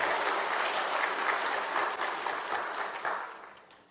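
A church congregation applauds to welcome a guest speaker to the pulpit, with a dense, steady wash of many clapping hands that gradually tapers off toward the end.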